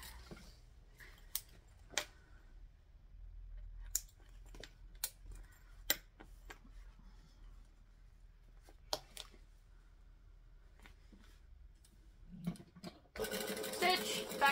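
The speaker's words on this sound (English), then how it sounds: "We're going to stitch and backstitch." A sewing machine stitches and backstitches a bag seam, with short sharp ticks and clicks spread across a quiet room, followed by a louder rapid run of stitching at the end.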